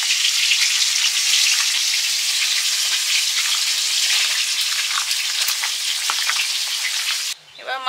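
Meat frying in a pan with ground black pepper, bay leaves and garam masala, a loud, dense, steady sizzle that carries on unbroken for several seconds before dropping off abruptly at the end.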